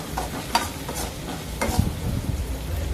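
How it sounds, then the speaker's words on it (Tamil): Onion and tomato sautéing in a pan, with a close sizzle under repeated scraping strokes of a spoon stirring the mixture and no one speaking. "இப்போ வெங்காயம் தக்காளி ரெண்டுமே நல்லா வதங்கி வரணும்."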